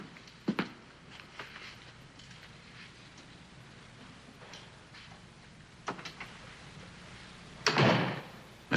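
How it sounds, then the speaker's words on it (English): A door in a quiet room swings shut with a sharp slam near the end, preceded by a few fainter knocks and clicks at the start and middle, with no voices. "Well, I'll close the door myself."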